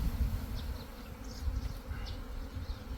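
Honey bee swarm shaken off a branch into a cloth outdoors, a steady low buzzing drone of many bees, close and continuous throughout.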